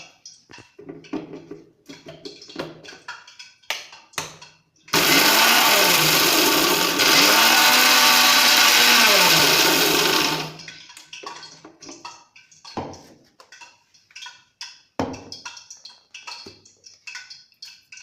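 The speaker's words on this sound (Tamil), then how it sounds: "இதை மிக்சியில் வச்சு ஒரு லைட்டாக பொடியாக்கிடலாம்" A kitchen mixer grinder whirs loudly for about five seconds, powdering dried herbs. Its motor rises and dips in pitch, and light tapping and clattering handling noises come before and after it.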